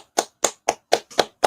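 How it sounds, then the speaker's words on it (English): Six sharp, evenly spaced claps, close and loud, at a gathering of an ISUPK Israelite class in Harlem, New York, with nothing else heard between them. "Let's clap it up."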